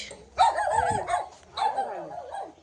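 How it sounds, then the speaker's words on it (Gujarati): A dog barks in two loud, close bursts of excited yelps and woofs on a farm, each lasting about a second with a short pause between them. "કૂતરું ભસે છે બહુ જ"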